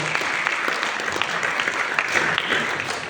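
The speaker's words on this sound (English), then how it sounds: "Can we give them a round of applause?" Audience applause at the opening speech of a STEM empowerment event in Jakarta, Indonesia, honoring students and young future scientists: a dense, steady wash of clapping from a crowd, sustained throughout without a break.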